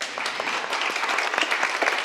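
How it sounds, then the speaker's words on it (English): A conference audience at a peace week closing ceremony applauds, a dense, steady round of clapping at close range with no voices over it. "we give you a round of applause"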